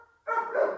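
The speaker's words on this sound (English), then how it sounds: "Sorry about the dogs." A single short dog bark at home, sharp and fairly close, cutting in after a brief quiet moment.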